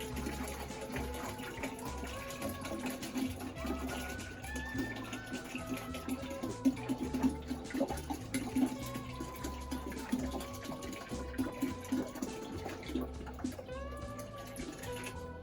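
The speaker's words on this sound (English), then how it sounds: "we're going to put some distilled water in here." Distilled water is poured into a GQF 1502 Sportsman egg incubator, making a steady, continuous trickling and filling sound that runs the whole time with no talking.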